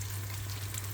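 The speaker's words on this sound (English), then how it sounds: "I'm now frying the potatoes" Steady crackling sizzle of potatoes frying in hot oil with cumin and red chili, close and continuous, with a low hum beneath it.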